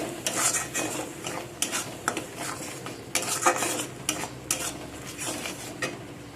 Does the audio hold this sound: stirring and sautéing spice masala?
yes